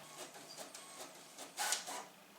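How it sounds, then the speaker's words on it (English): A home printer runs off worksheets sent remotely from a phone, giving a quiet, steady mechanical whir with rhythmic feed pulses and a brief louder rasp near the end, heard alone in a room. "I'm printing worksheets off from my phone remotely to that printer at the moment."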